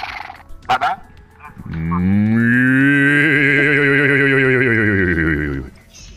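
A human voice imitating a cow gives one long, loud, throaty moo lasting about four seconds, preceded by a few brief mouth noises and ending in quiet.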